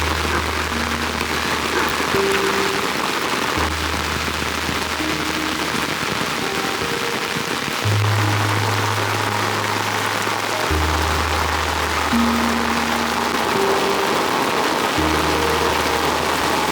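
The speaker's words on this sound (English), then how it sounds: "It just rains and then it stops and then it rains some more and then it stops." Steady rain falls during a hike through the Costa Rican countryside, a continuous close hiss of drops hitting surfaces that keeps a constant level throughout, with faint low tones beneath and no voices.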